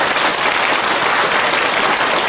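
A church congregation applauds in praise, a loud, dense and uniform burst of clapping that fills the whole couple of seconds with no talk.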